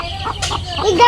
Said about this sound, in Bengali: ওই দেখ মুরগি